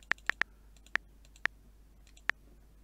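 Sharp, isolated taps on a phone's on-screen keyboard in the horror game Sara is Missing, six clicks in an uneven rhythm, a quick burst of three then sparser single taps, close and clear over a quiet background.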